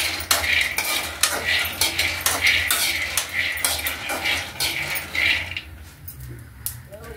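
A spoon stirs peanuts dry-roasting in a metal pan for chutney, making repeated scraping clinks and rattles at a regular rhythm, close and clear, with a soft sizzle beneath.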